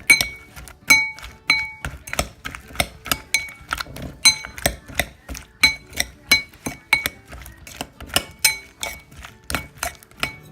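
Salad dressing being whisked with vinegar in a bowl, a quick steady series of sharp clinking taps of utensil against the bowl, close and without talk.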